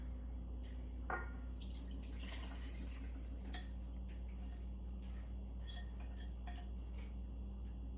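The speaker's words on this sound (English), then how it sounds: "I'm gonna go ahead and mix just a little bit more, make sure all that sugar is dissolved" Milk, water, oil and sugar being stirred together in a bowl, with soft scraping and clinking of a utensil against the bowl over a steady background hum, a few sharper clinks standing out, no talking.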